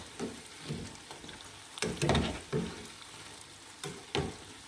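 Food frying and being stirred in a large pan until brown for guimat, quiet sizzling with repeated scraping stirs in uneven bursts, no talking.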